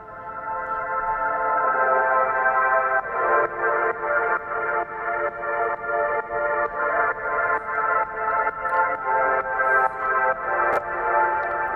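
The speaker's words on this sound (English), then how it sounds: "Let's actually start with this lush pad." Lush synth pad from an Ableton trance track, a sustained chord layer with LFO movement and a rhythmic pumping duck from kick sidechaining, high-passed, playing steadily and loud on its own for about twelve seconds.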